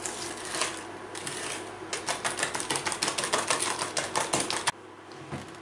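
Egg yolks and sugar whisked in a bowl, a fast, steady run of sharp, close ticking strokes that stops abruptly, with no voices.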